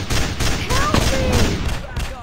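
Heavy, loud volleys of automatic gunfire in the mobile shooter game Fps Commando, dense and continuous across the clip, with distant voices calling out beneath the shooting.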